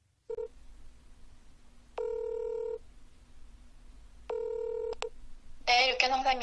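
Telephone keypad tones sound as a number is dialed: a short beep, then two longer clusters of rapid tone presses, followed by a warbling ring, close and clear over a faint steady hum.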